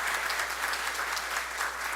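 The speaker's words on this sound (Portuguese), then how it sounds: "Uma salva de palmas" Steady applause from the audience at a city council solemn session awarding honorary citizen titles, a uniform wash of many hands clapping, moderately loud and unbroken for two seconds.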